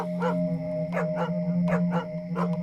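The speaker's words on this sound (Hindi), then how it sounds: "उनके पास ही सोया था एक आवारा कुत्ता। जो मुझे देखकर भौंकने लगा।" A stray dog barks in short repeated bursts, about six sharp yips at an irregular pace over a steady electrical hum, heard close with no voices.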